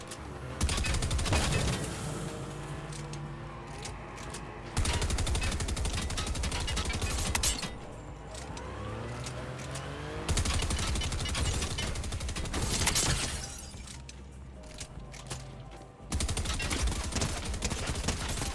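Bursts of rapid automatic gunfire from a hard-kicking gun in a video game, several loud sustained volleys separated by brief gaps, with a voice speaking faintly in between.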